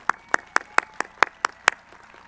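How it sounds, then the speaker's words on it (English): Applause at a high school commencement ceremony comes through as eight sharp, evenly spaced claps, crisp and fairly close, with quiet gaps between each hit. "Please, students, let's give your parents a well-deserved round of applause."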